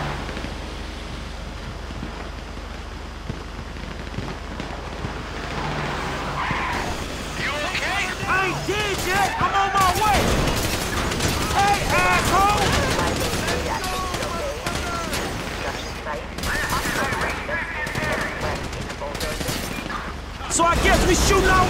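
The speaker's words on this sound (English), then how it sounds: "So I guess we're shooting our way out of here!" Gunfire rattles through a dense Grand Theft Auto 5 heist shootout, with continuous loud bursts layered over engine rumble and a steady roar, while game characters shout and talk throughout.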